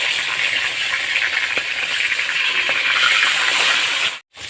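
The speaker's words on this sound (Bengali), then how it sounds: "তেল গরম হয়ে গেছে এখন আমি মাছ ভেজে নিচ্ছি দুটো দুটো করেই ভাজবো" Sarpunti fish fry in hot oil, a loud, steady, close-up sizzling hiss with faint bubbling that holds evenly before cutting off abruptly near the end.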